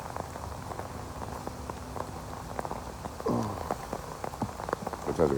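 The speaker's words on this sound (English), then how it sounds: "Sometimes I get caught in the rain." Steady rain patters on a surface, with scattered drops and taps over a constant wash, occasional louder clatters near the end, heard outdoors where someone sheltered under a tarp.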